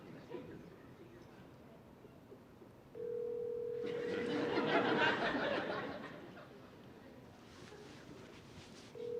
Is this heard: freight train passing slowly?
no